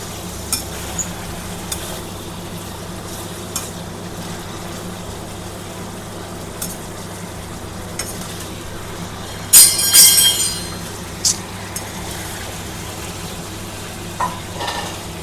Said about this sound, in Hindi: बस यही मसाले जाएंगे। गैस हाई रख के फ्राई करना है।